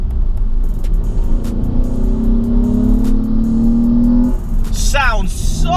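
A 2005 Ford Mondeo ST220 with a V6, K&N induction kit and Milltec catback exhaust drones loudly and revs up with rising pitch, then gives a few sharp throttle blips at the end, with someone talking over it.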